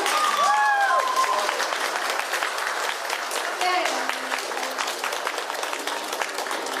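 An audience at a ballroom dance awards event in Yakutsk claps in sustained, dense applause throughout, with a few brief whistles or cheers riding over it.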